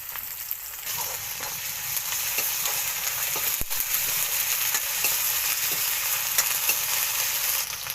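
Onion, ginger and garlic fry in a pan with a steady, dense sizzle and faint crackles, plus a few soft stirring clicks and one sharp tap, close and unbroken.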